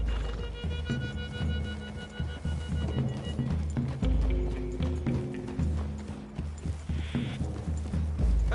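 Horses clip-clop steadily through trees in Red Dead Redemption 2, hooves thudding close with an occasional snort amid layered game ambience and music.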